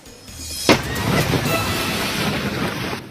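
Strong Super Typhoon Nando wind in Ilocos Sur roars and buffets the microphone, with a sharp bang early on, followed by a steady rushing gust.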